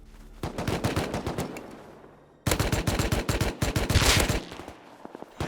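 Rapid bursts of gunfire in a survival video game, with dense automatic fire at close range that pauses briefly and then resumes in a second loud volley before trailing off into a few scattered shots.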